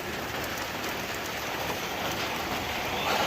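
Heavy pouring rain hammers down steadily on surfaces outdoors, a dense, even hiss with no break, loud and close throughout, with no voices over it.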